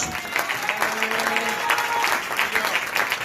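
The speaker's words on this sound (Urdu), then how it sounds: "زوردار تالیاں" Loud applause from a congregation at a church service, a dense, sustained clatter of many hands clapping throughout with a faint voice underneath.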